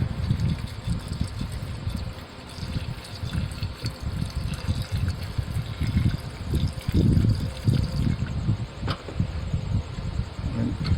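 Water sloshes and trickles while gold refining residue from karat scrap is rinsed, an uneven series of close splashes and gurgles with a faint high hum behind.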